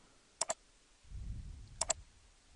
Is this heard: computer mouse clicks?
yes